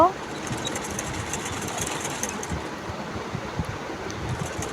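A sewing machine stitches a sleeve onto the body of a small child's dress, humming in a steady, close, continuous drone with a fast mechanical patter throughout.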